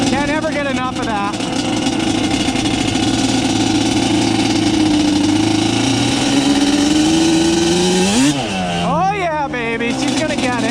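A Yamaha Banshee 350 twin-cylinder engine with a Toomey exhaust idles with a steady, crisp burble, then blips sharply into a couple of quick revs near the end, loud and close throughout.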